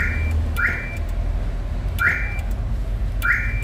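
A Toyota MR2 SW20 car alarm chirps in a repeating rising siren tone, three cycles spaced about a second and a half apart, close and clear over low background hum.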